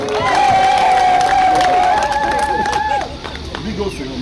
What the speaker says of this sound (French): Applaudissons très fort pour Monsieur Kofi.